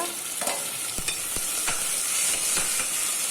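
Tomatoes cook with sautéed onions in a pan for mutton soup, making a continuous close sizzle broken by several sharp stirring clicks and scrapes of a spoon.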